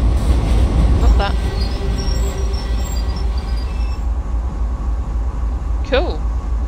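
A diesel locomotive on Sand Patch Grade in Train Sim World 2 brakes to a stop, with a heavy rolling rumble that eases off and a brief metallic squeal near the end. A voice is heard over it.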